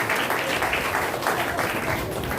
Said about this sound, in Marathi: टाळ्या वाजून आपण परमेश्वराला धन्यवाद देऊया.